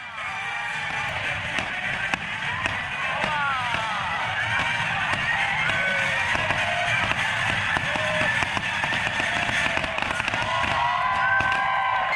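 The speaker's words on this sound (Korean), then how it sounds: "음악에 맞추어 터지는 불꽃들이 정말 굉장하지 않나요?" Dense, continuous popping and crackling bursts of fireworks set to music aboard a cruise ship, with crowd noise, loud and sustained throughout.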